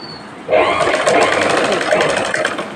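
A sewing machine starts up and stitches a rectangle, a rapid even mechanical whir with dense stitching pulses running steadily for about two seconds.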